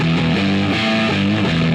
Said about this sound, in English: Put distortion on it.